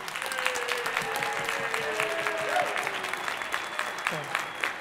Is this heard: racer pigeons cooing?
no